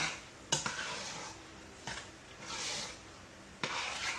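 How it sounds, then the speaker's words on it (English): Cheese sauce being stirred into macaroni and cheese with hot honey BBQ chicken, giving soft wet scraping and stirring with a few sharp utensil knocks against the pot, close and fairly quiet. "let's mix in that cheese sauce"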